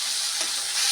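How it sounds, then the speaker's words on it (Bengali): A ginger, garlic and onion paste with bay leaf sizzles in hot oil in a pan, the base for a prawn malai curry, giving a steady, close, hissing fry with no talking. "এখন এটা কষিয়ে নেবো একটু।"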